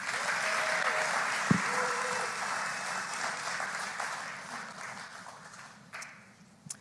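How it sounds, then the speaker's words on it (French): An audience at a church talk applauds the people who just took part, a dense, sustained clapping that fades gradually toward the end. "On les applaudit."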